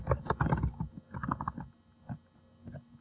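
Keys clatter on a computer keyboard as a search is typed, a quick burst of close clicks followed by a short pause and a few scattered, slower keystrokes.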